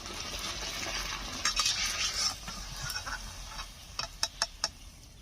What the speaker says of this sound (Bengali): পরবর্তীটাও ভেজে নিচ্ছি একই রকম ভাবে।